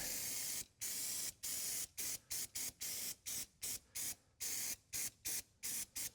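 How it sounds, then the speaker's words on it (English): Brake cleaner sprays onto engine parts of a 2017 Porsche Macan in a series of about fifteen short, sharp aerosol bursts, close and hissing, separated by brief pauses, with no talking. "now let me hit this with a little brake clean"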